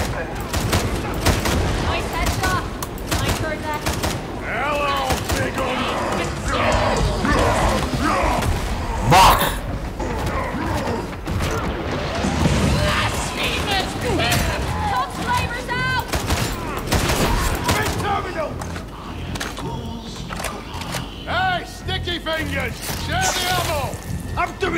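Gunfire in the video game Warhammer 40,000 Darktide, repeated bursts and sharp shots mixed with thuds and combat noise, heard beneath steady talk from a player.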